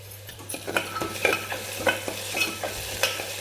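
Onions sautéing in oil in a pan give a steady sizzle while a spoon stirs and scrapes in quick, regular strokes.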